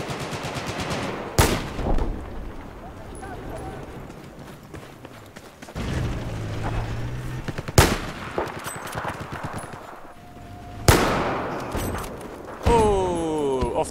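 Battlefield 4 gunfight on PC with a red-dot bolt-action rifle: several loud, sharp shots spaced seconds apart, plus distant gunfire, running footsteps and game interface blips, with occasional talk over it.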